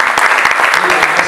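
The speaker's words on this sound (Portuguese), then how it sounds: "Vamos dar uma salva de palmas para esse cara aqui?" Dense applause from a church congregation, many hands clapping at close range in a quick, even burst.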